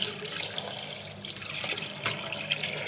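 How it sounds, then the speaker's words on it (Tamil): Kitchen tap left open, water running steadily into a sink while something is rinsed, a continuous close hiss and splash with small spattering bursts, no voices. "டேப்பை திறந்து விட்டேன்னா நல்லா க்ளீன் ஆகிரும் உங்களுக்கு."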